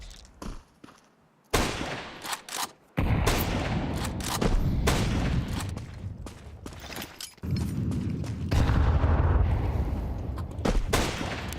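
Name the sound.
grenade explosion in Counter-Strike match (video game)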